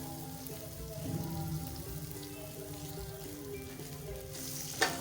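Chopped onions sizzle steadily in hot ghee in a cooking pot while a spoon stirs them, a continuous close frying hiss with a faint scrape near the end.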